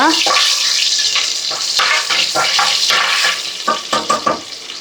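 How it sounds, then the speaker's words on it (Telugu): Whole spices and black peppercorns fry in hot oil for chicken pulao in a pressure cooker, giving a loud, steady sizzle with scraping stirs that trail off into a few sharp spattering pops near the end. "మసాలా దినుసులన్నీ బాగా వేయించుకోవాలి"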